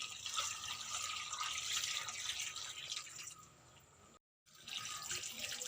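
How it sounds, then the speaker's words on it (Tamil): Water runs and splashes steadily from a tap or spout, filling a cooking pot nearby with about three-quarters of a litre, then stops abruptly and briefly before resuming. "முக்கால் லிட்டரு தண்ணி ஊற்றணும்"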